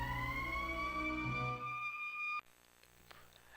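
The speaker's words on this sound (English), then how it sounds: "That's the emergency siren." An emergency siren in the video game Valkyria Chronicles: a sustained, gently rising wail holds steady for a little over two seconds, then cuts off abruptly and leaves faint background noise.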